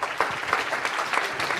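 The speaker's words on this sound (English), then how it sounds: "Let's applaud him." Audience at a tech conference on TPM 2.0 for embedded devices applauds an incoming speaker, a brief, steady patter of many hands clapping at moderate level with no voices over it.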